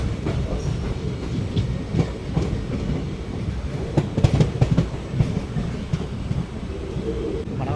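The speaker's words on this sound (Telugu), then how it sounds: "ఈ డెమో ట్రైన్ అయితే వెళ్ళిపోతుంది" A hydrogen demo train bound for Sonipat pulls out of a station in light rain, its wheels clattering over rail joints in a steady low rumble with irregular clanks, moderately loud and continuous.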